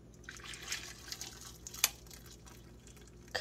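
Boiling water is poured over frozen blueberries and cherries, a faint, soft trickle and dribble with a few small drips and one sharper splash midway, heard alone and quietly.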